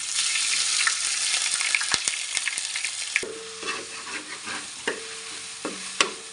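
Crushed ginger, garlic and green chili sauté in a hot pan with oil and curry leaves. A bright, loud sizzle fills the first half, then eases into quieter frying broken by sharp spatula clicks and stirring scrapes.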